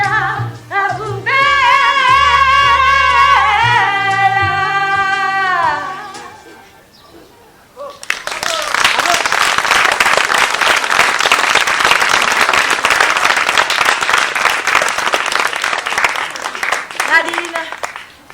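Loud, dense applause from an audience at a farewell event at a community social centre, sustained clapping for about ten seconds after a sung passage with a sustained harmonic voice, with a few voices mixed into the crowd noise.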